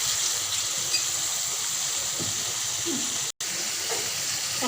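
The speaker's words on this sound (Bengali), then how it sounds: "মাছটা কষানোর জন্য পরিমাণ মতো পানি কিছু দিয়ে দিল" Water is added to a pan of fish being cooked down, and it sets off a soft, continuous hiss and sizzle that runs at a low level, with a brief dropout near the end.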